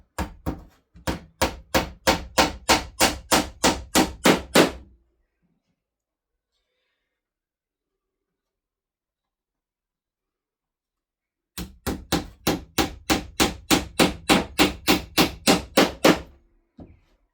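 Nails are hammered into an 1860 wooden campaign chest in two close, loud runs of rapid, evenly spaced blows. The strikes grow heavier in each run, and a long silence separates the two runs.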